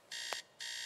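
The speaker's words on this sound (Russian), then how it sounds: "Будильник. Выключить не могу, разбить только." An alarm clock rings in the video game Teardown, giving two bright, shrill electronic bursts separated by a short pause.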